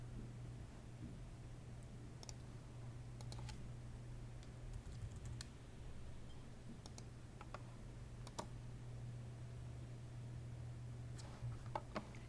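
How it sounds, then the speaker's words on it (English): A username is typed on a computer keyboard: quiet, irregular key clicks in short bursts over a soft steady hum, with no voices. "by typing in the username and clicking on Add."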